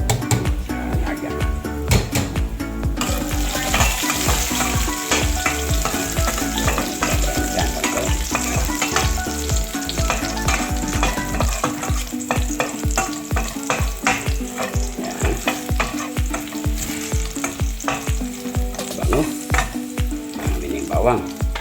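Garlic sautéing in a pan for a mung bean dish, a loud, sustained crackling sizzle with rapid, repeated metal spatula scrapes and knocks throughout, no speech.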